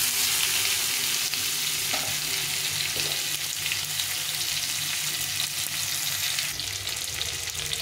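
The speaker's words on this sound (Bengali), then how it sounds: "আমি এখানে ভালো করে ভেজে নিচ্ছি" Hog plum (amra) pickle frying in a pan, a loud continuous sizzle and crackle with intermittent stirring scrapes, close up and without speech.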